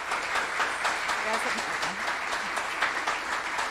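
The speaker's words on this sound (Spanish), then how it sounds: "Para ella, un fuerte y caluroso aplauso." Audience applause at a public cultural event, a strong, warm round of clapping from a crowd that stays steady and dense throughout, with faint voices mixed in.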